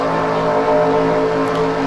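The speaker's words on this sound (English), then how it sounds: "Beautiful sound of the engine here." Engine of a racing car in an Aldi Cup series race, a loud sustained drone with steady harmonic whine, holding close and constant without talk over it.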